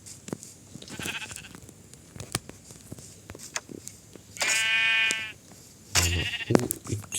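Sheep in the Minecraft video game bleat in short, blocky, buzzy calls, a longer one at about four and a half seconds and another near six seconds, over faint clicks and game noises with no talking.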